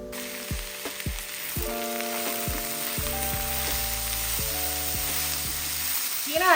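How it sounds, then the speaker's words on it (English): Mushrooms, shallots, garlic and thyme sauté in a pan for a butter-free lemon pasta, a loud steady sizzle throughout with faint music tones over it and no speech. "So now we just are going to start to saute mushroom, shallots, garlic,"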